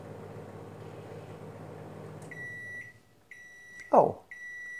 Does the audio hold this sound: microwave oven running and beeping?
yes